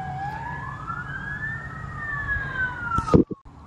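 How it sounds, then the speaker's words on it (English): A police car siren wails in a rising and falling sweep as the vehicle drives by, moderately loud at a distance before a sharp close thump near the end. "Alright, we just had the police driving by and it got a little bit loud."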